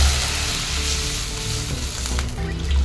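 Water poured into a pan of butter-sautéed vegetables for lemon coriander soup, a loud continuous close sizzle and hiss with a low rumble, steady throughout and without speech.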